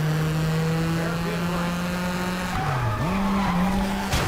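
A rally car in the Sega Rally video game slides through a hairpin on the handbrake, a sustained tire squeal with engine drone that dips and wavers mid-skid, loud and close.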